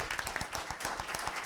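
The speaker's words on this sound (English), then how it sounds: "let's give all of our contestants a round of applause" An audience applauds contestants at a live elevator pitch competition, a dense, steady burst of many hands clapping close by with no pauses.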